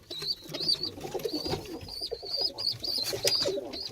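Tumbler pigeons coo repeatedly at close range, their soft, throaty calls overlapping in a steady run over faint background rustling.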